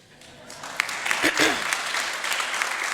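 Applause from the audience at a Pulaski Day celebration honoring the Polish community, swelling quickly from quiet into sustained, moderately loud clapping.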